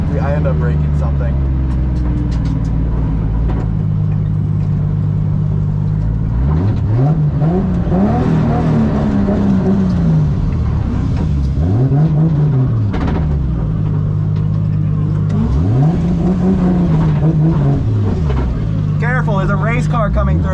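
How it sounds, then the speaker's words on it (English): Race car passing on a track with a loud engine revving and rising then falling in pitch several times, droning close by over a steady low rumble, with people talking nearby. "There's a race car coming through."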